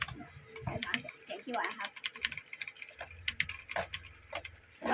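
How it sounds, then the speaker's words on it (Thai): Rapid, crisp clicks from an Xtrike-Me GK-986 keyboard in irregular bursts, with someone talking over parts of it. "คีย์บอร์ดก็จะมีเสียง คึกคักนะครับ"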